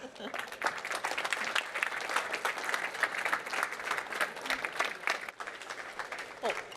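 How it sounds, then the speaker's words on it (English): An audience claps for a speaker at a science award event, with a steady round of applause from many hands continuing throughout at fairly low volume. "So please give a big round of applause to Katja Loos."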